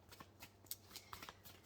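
A deck of cards shuffled by hand for an intuitive card reading: a quick run of crisp riffling flutters and soft slaps, close and fairly quiet, with no voice.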